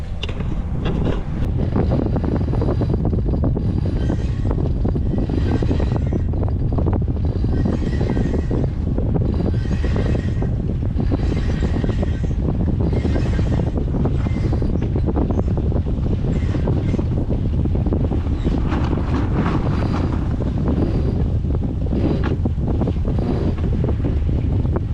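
A sailboat sailing upwind under the head sail alone at about 3.5 knots, with constant loud wind buffeting the microphone and water rushing along the hull throughout.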